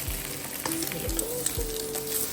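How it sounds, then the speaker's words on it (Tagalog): Eggs fry in olive oil in a hot pan with a steady close sizzle and crackle, broken by a few brief low knocks from the pan, and no voices. "Prituhin nyo lang yung itlog"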